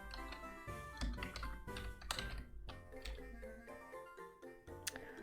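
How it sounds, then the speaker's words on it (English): Rapid clicking on a computer keyboard while a game plays, uneven bursts of keystrokes over soft background music, near and quiet. "Oh my god, typing."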